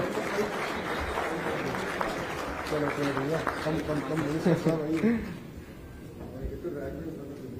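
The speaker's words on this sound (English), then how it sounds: "Round of applause, ladies and gentlemen, for sir." Conference audience applauding a guest of honour, the IT minister of Andhra Pradesh at a CII international conference, moderate clapping under a speaking voice, fading out near the end.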